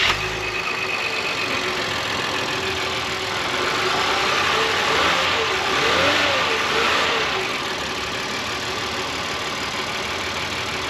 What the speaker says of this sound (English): This turbo 6-cylinder engine is very quiet.